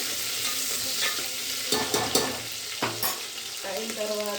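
Green chillies sizzle in hot oil in a pan for a urad dal and tomato dish, with a steady frying hiss and a spoon scraping and stirring several times, close up.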